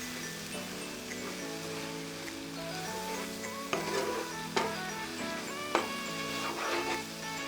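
Spices with mint and coriander leaves being stirred in a pot for mutton biryani, giving a steady sizzling scrape throughout, with a few sharper clinks of the spoon against the pot near the end.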